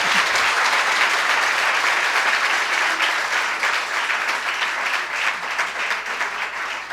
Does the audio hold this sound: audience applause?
yes